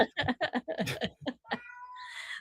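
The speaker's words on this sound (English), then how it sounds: "My new kitten here just heard your cat meowing and he's tripping out now." A cat meows in several short, loud, separate calls close by, followed by a longer drawn-out higher cry at the end, with no talking.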